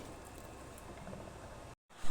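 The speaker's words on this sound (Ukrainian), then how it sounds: "Смажиться перша порція наших котлет і запах на всю кухню." Meat cutlets fry in a pan with a quiet, continuous sizzle and crackle, cut off by a short silent gap before a louder burst at the end.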